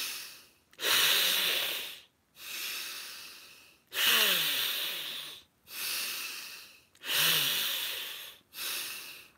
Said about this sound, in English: a powerful inhale through the teeth